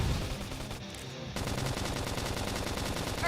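Rapid automatic gunfire in the video game Xenoblade Chronicles X, dense bursts of shots that break off briefly and then resume as a loud continuous volley.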